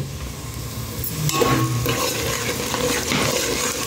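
Onion fries in a pan for egg bhurji, a continuous close sizzle with scraping stir strokes building in the middle and carrying on to the end.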